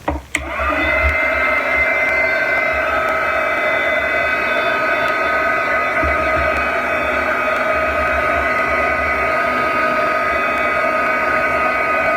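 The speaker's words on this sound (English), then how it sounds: "I am going to hit it with my blow dryer." A blow dryer starts with a click and then runs continuously at a steady, loud whir for the rest of the clip, with no talking.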